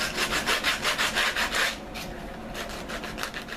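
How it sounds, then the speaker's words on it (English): Rhythmic back-and-forth sanding strokes rub along the edge of a sporran piece, about a dozen quick close strokes, then a pause and a few lighter strokes. "The more you sand, the harder you sand, the more you can kind of take away some of the edge as well."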